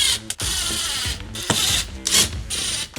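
Power driver sinking screws to fasten an Automat-Bar rubber floor in a RAM ProMaster City, close whirring bursts with short gaps between them.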